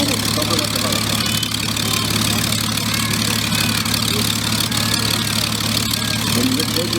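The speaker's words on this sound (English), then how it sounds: "it uses a 9-cylinder radial engine with a 350 to 400 pound horsepower" A 9-cylinder radial aircraft engine of about 350 to 400 horsepower running at an airshow, a loud, steady, rough drone that holds without a break throughout.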